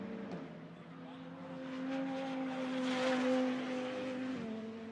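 A GT2 race car at Hockenheim rises in engine pitch as it passes at a distance, its tone climbing then easing off, heard under commentary.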